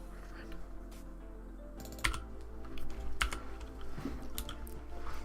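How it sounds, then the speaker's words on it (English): Rapid clicking keystrokes on a computer keyboard, bursts of close, light taps that come and go with brief louder clacks, over a low steady hum. "Apologies for all the typing."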